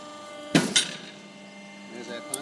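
A Steelmaster SM-PS70 punch and shear machine punches through 6mm mild steel plate, giving a sharp loud metallic bang followed by a second clank, then a low steady machine hum and a faint click.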